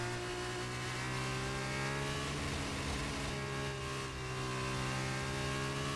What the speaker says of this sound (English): You can hear William get on the gas really hard. Really revved up the car.